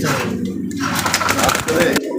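A red checker pigeon coos close by amid loud talk and handling noise, its soft throaty calls partly buried under voices.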